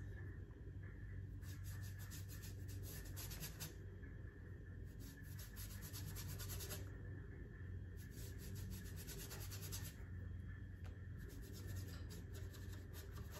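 Paint is rubbed up and down along taped edges in soft, dry scrubbing strokes that come in bursts with brief pauses, faint and close over a low background hum.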